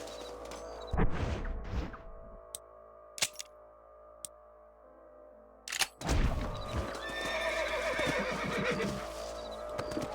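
Video game Red Dead Redemption, horses whinnying loudly close by, then scattered sharp clops and knocks of hooves, with a busier rustle of hooves and movement toward the end.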